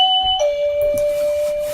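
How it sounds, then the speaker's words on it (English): A shop doorbell chimes loudly and close, two electronic tones with the second held and ringing on, with no talking. "This doorbell ringing sound, that you get here"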